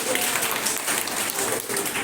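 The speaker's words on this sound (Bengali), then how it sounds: "থ্যাংক ইউ জোরে হাততালি" An audience claps loudly at a girls' government school event in Netrokona, the applause a dense, steady wash of many hands lasting throughout.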